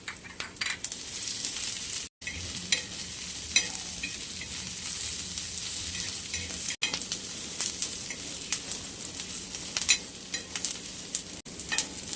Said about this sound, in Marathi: मस्त लाल कांदा भाजू द्यायचा